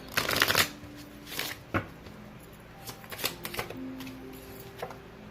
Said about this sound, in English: we're going to get 2 cards from this career deck